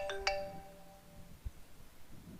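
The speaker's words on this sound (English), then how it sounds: "I got a phone call" A phone rings with an incoming call: a bright electronic chime sounds near the start, then a lower sustained tone trails off, with faint thumps and room noise afterward.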